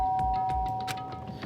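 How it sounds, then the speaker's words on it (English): A doorbell chimes at a front door, a short ringing tone with a sustained pitch and a few soft overlapping clicks, close and alone. "and pressed the doorbell."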